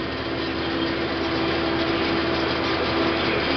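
Allis Chalmers 7000 tractor engine running steadily during fescue grass seed drilling, a loud continuous drone with a constant hum and no pauses.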